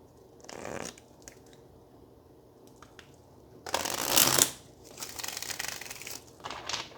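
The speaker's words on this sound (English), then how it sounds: "one more shuffle" Tarot cards are shuffled by hand at close range in quiet bursts: a short riffle near the start, a few faint taps, then a louder, longer shuffle in the middle followed by lighter shuffling rustles toward the end.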